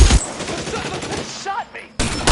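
Rapid bursts of gunfire in the 1940s Los Angeles crime game L.A. Noire, loud and dense for most of the moment before cutting out briefly and returning.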